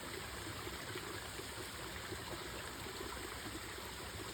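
Stream water pours steadily into a small homemade basin at a summer camp lodge, a continuous splashing trickle close by with no talk.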